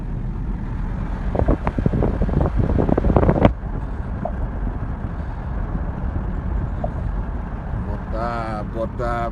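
Steady broadband night wind rush and rumble runs throughout at the Sadiya bridge, with a burst of clattering noise early on and faint chirpy sounds near the end.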